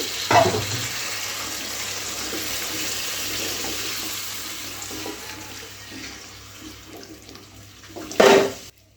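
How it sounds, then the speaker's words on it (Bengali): Water poured into a pot of taro curry as it cooks, a continuous rushing pour lasting several seconds, close and fairly loud, ending with a brief louder splash. "কষিয়ে নেওয়ার জন্য, সিদ্ধ হওয়ার জন্য একটু পানি দিয়ে দিচ্ছি"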